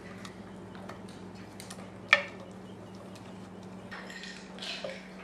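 A spoon stirs ground cloves, nutmeg and cinnamon together in a pot for a baked ham orange glaze, giving one sharp clink near the middle and soft, faint scraping toward the end in a quiet kitchen.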